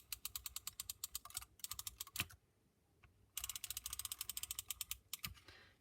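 Tape runner drawn across card stock in two long bursts of rapid, fine ratcheting clicks, close and crisp, separated by a short quiet pause and a few isolated ticks.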